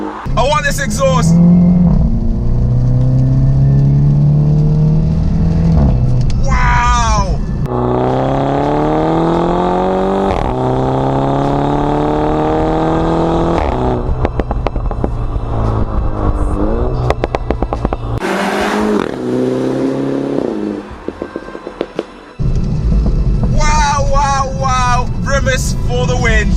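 Loud, close engine notes from a Mini Cooper S convertible with a Remus catback exhaust rise and fall through repeated revs and accelerations, while voices talk at the start and end.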